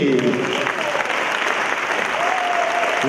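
Loud, steady applause from an audience at a live comedy charity show in the Agordo valley, dense clapping filling the whole moment, with brief voices and whistles rising over it near the start and end.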